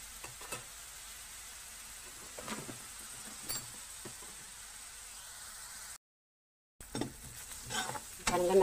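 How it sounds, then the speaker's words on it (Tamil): Food sautés in hot oil with a faint, steady sizzle and a few light stirring taps. The sound cuts out briefly to silence, then the hiss returns slightly louder at the end. "எண்ணெய் சூடாக இருக்குல்ல, அதில் போட்டதும் சீக்கிரம் வதங்கிடும்"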